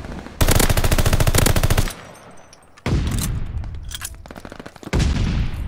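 Automatic rifle fire in the shooter game Call of Duty: Vanguard ranked Search and Destroy, with three long rapid bursts separated by short pauses and scattered distant shots, loud and close.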